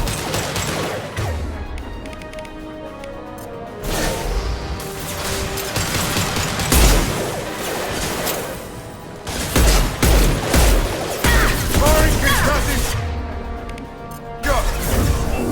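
Gunfire in Mass Effect during a Cerberus fight comes as loud, dense bursts of shots and impacts, clustered in repeated volleys with brief lulls between, mixed with game effects and some talk.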